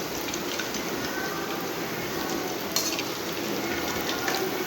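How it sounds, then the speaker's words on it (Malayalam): Cabbage vada deep-frying in oil over high flame makes a loud, dense, continuous sizzle, close and steady with one brief crackle partway through. "എന്നിട്ട് ഇത് നന്നായിട്ടൊന്ന് ഫ്രൈ ചെയ്യാൻ വെക്കാം"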